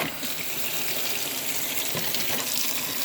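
Hot tap water runs steadily into a kitchen sink while a taping knife caked with hardened drywall compound is rinsed under it, a continuous close splashing hiss with no talking.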